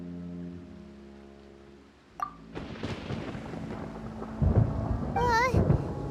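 Thunder rolls in Genshin Impact, starting with a sharp crack after a fading musical tone and swelling into a loud, sustained rumble with a brief voice-like exclamation near the end.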